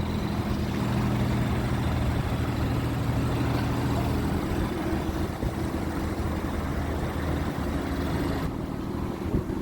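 A car engine idles steadily while warming up, a smooth, low, continuous hum with a faint even rumble and no revving.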